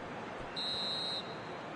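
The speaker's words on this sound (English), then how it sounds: "And there goes the final whistle." Referee's final whistle in the football game PES 2020, a single shrill blast lasting just over half a second above a steady crowd murmur.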